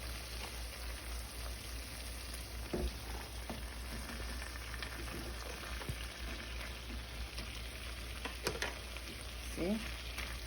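Chopped onions sizzle in a frying pan alongside salmon cooking on low heat, a soft steady crackling hiss with occasional small pops and clinks, fairly quiet and continuous.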